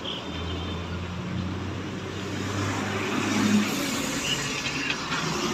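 A Maruti Suzuki Baleno pulls away in first gear, its low engine drone rising steadily amid loud road and traffic noise outdoors during parking practice.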